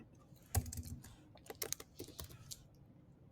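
A username being typed on a computer keyboard, a close, quiet patter of key clicks in short uneven runs with brief pauses between.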